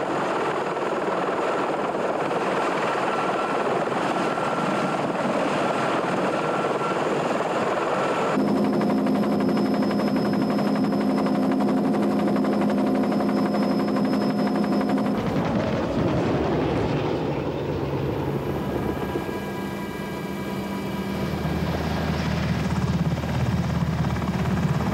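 Black Hawk military helicopter flying, a loud continuous rotor and turbine roar with steady tonal whine, shifting in character partway through as it passes, heard alone without talk.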